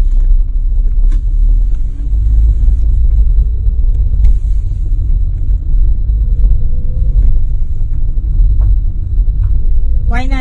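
A car rolls through a residential neighborhood in Oyster Bay, Long Island, with a steady low interior engine and road rumble beneath a person talking.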